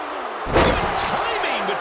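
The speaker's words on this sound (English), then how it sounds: "Shot after shot, they're slamming their face down." A heavy body slam thuds onto the wrestling ring mat in the video game WWE 2K23, one loud impact under a steady crowd roar and ongoing commentary voices.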